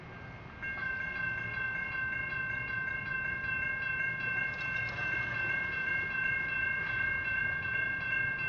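Main-line train arriving at Lakeland, Florida, a steady loud rumble of rail cars with a sustained multi-tone horn held over it, close by and without speech.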